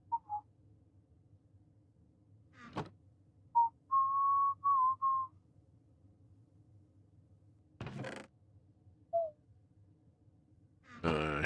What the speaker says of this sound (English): I'm willing to bet the whistling is being really annoying on the recording.